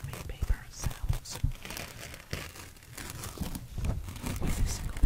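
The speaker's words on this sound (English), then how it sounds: "today I will be doing some paper sounds" A single sheet of paper is crumpled and ripped up close for ASMR, giving crisp crinkling bursts and rustles in an uneven rhythm, some sharp and loud, others soft and drawn out.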